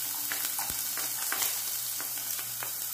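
Chopped onion sautés in a thin stream of soybean oil with a steady low hiss of frying and a few light stirring taps, close and without talk.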